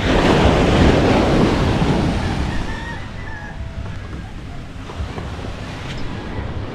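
Ocean surf rumbles and washes in, with gusty wind buffeting the microphone; the roar swells at first and then eases slightly.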